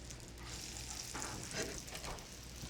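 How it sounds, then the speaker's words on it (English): Vegetables or cutlets frying in shimmering hot vegetable oil in a nonstick skillet, giving a steady soft sizzle with faint crackles throughout. "Should see a little bit of a sizzle here."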